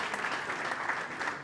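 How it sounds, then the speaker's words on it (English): Brief audience applause at a Nigerian maritime event, a steady, moderate patter of many hands clapping that fills the short moment without any voice over it. "I thought you were going to clap for that."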